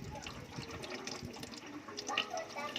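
Water pours and splashes into a coffee vending machine's reservoir, a steady trickling fill with small gurgles and drips near the listener, quiet and steady over the whole stretch.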